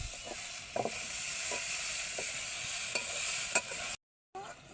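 Tomatoes being stirred into a bean and potato curry in a pan, a soft steady sizzle with repeated spoon scrapes, then a brief cut to silence near the end.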